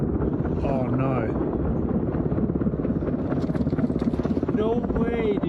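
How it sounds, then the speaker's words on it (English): A National Guard helicopter at a ski area gives a rapid, steady thumping rotor chop, loud and close, with wind rush and people talking over it. "2 National Guard helicopters going down as skiers watched in disbelief"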